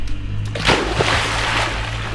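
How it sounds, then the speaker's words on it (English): Splashing as someone goes for a swim in warm water on Koh Kood during Thailand's rainy season: a few soft close splashes and sloshes over steady low background rumble. "Go and have a swim."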